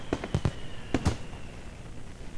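Fireworks in the visual novel Katawa Shoujo pop in a quick cluster of sharp bursts, two groups of cracks followed by a fading rumble.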